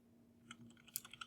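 Fingers tapping out a name on a computer keyboard, a quiet run of light clicks that quickens into several sharper keystrokes near the end, close and without speech.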